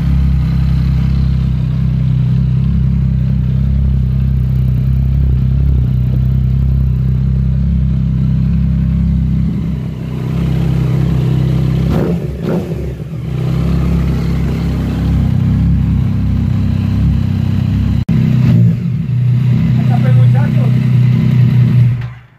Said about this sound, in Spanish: Podemos escuchar que la moto suena bien parejita, suena bueno el motor